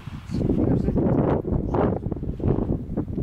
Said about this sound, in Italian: mamma che vento